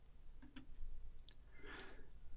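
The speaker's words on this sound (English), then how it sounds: "you get it by clicking this little icon here" Two quick, light mouse clicks on a software icon, close together near the start, followed by a soft rustle over faint background hiss.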